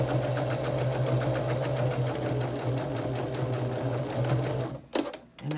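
A sewing machine stitches through quilted bag fabric in a fast, even run of close mechanical clicks and hum, then stops abruptly near the end.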